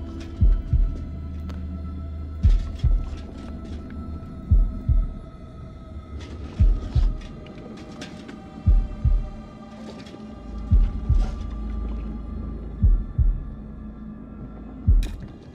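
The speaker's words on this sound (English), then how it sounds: "Press left mouse in time with heartbeat." Heartbeat in the horror game House of Ashes: steady double thumps repeat about every two seconds, deep and loud over a low droning hum.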